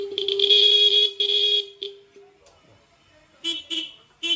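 A vehicle horn pressed in short toots: two longer honks, a brief blip, then a pause and two quick beeps, close and loud with no talking over them.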